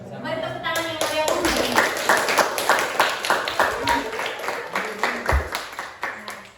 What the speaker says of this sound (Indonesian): Mari tepuk tangan yang meriah.